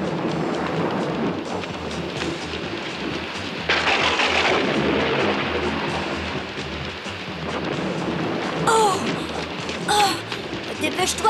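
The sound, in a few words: thunder of an approaching storm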